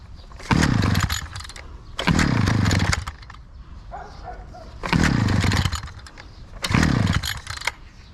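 A petrol brush cutter engine, just started after a spray of rust inhibitor into its air intake, revs loudly in four bursts of roughly a second each, with a lower idle between them.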